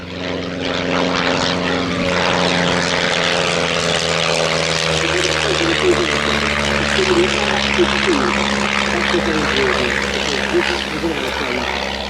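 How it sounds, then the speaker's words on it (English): A 1932 de Havilland DH.60 Moth vintage racing and aerobatic biplane flies overhead, its propeller engine droning loud and steady throughout with a rising and falling pitch as it passes. "This 1932 vintage racing and aerobatic sporting biplane"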